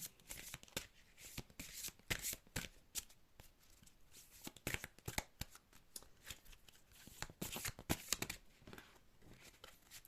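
Oracle cards are shuffled by hand in rapid, papery riffles and slaps, a close, continuous flurry of crisp card noise with no talking.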